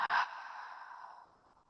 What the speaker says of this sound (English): Exhale fully.